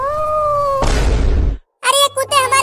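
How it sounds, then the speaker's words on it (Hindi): A drawn-out, wavering cat yowl, followed by a noisy burst and then animated voices chattering. "अब ये बिल्ली क्यों चिल्लाने लगी?"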